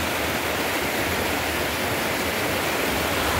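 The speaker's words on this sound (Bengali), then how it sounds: "নদীতে জলের স্রোতও বাড়ছে এখন" The Rishi Khola river, swollen by pre-monsoon rain in the hills, rushes steadily nearby in a loud, dense, unbroken roar, with no voices over it.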